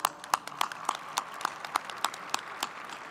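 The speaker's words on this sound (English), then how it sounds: "Another round of applause." Scattered applause at a university commencement ceremony, with individual sharp hand claps at a steady, moderate pace, fairly close and alone with no talk.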